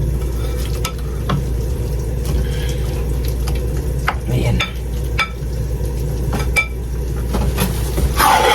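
Okonomiyaki mixture being stirred and fried in a hot pan: a steady close sizzle runs throughout, broken by scattered clicks and scrapes of the utensil against the pan.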